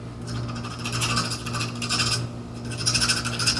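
Hacksaw blade rasping back and forth inside small bores during cleanup of metal parts, a steady close scraping texture with a rhythmic rubbing pulse and a constant low hum underneath, no talk.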